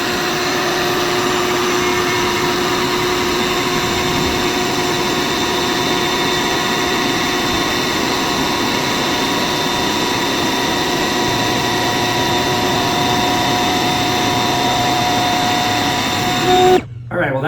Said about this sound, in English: I'm sure it's just the motor in the air mattress that's doing that